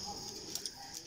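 Pigeons coo softly at a middle distance in an outdoor loft setting, giving a few brief low calls over faint background hiss.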